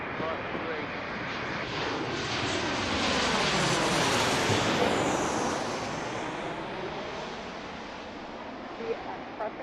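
An airliner arriving at Pittsburgh International Airport roars past as a loud, broad jet rumble that swells to a peak mid-clip and then slowly fades, with wind-like noise throughout.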